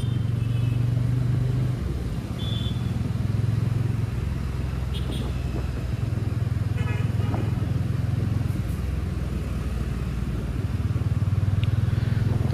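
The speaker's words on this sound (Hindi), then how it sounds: "तो नो डाउट यार गाड़ी काफ़ी ज़्यादा स्मूथ चल रही है" A TVS Ronin motorcycle rides through traffic, its engine giving a steady low rumble close by with passing vehicle noise around it, continuous throughout and with no talk.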